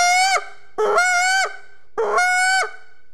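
A goose flute blows a pleading goose call, three loud drawn-out honks, each rising and ending in a strong final note, alone with short silences between.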